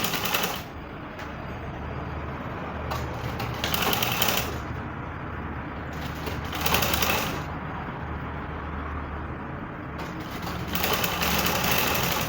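A sewing machine runs steadily while stitching a yoke on net fabric for a bustier gown, a continuous close whirring with a few brief surges and pauses.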